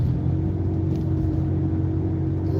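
Heavy road traffic heard from inside a vehicle as a steady low rumble and engine drone, constant and moderately loud, with no voices.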